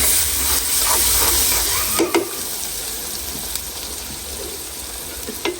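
Ginger garlic paste sizzling in a hot pan, a loud steady hiss near the mic that settles slightly after a few utensil clicks, with no talking.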